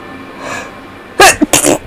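A single loud sneeze bursts out close up after a quiet moment, followed by a short sniffly aftershock.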